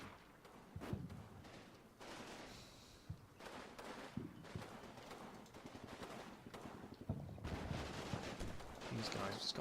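Mortar shelling and gunfire in the Combat Mission Market Garden battle game, a continuous barrage of sharp bursts and booms with rattling fire, growing louder toward the end, with talk mixed in.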